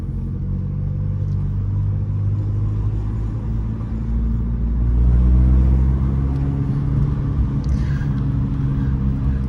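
A Fiat 500 Abarth engine drones steadily from inside the car as it runs through the gears, a low, loud rumble that swells briefly midway with a rising pitch, no talking.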